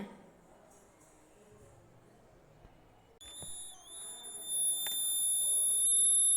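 A small buzzer powered by a heat panel held near a burning candle stays quiet for about three seconds, then starts a thin, steady high-pitched electronic whine that grows gradually louder and continues to the end.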